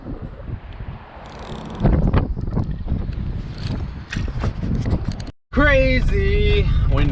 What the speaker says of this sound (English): I'll do an outro somewhere where it's not so dang windy.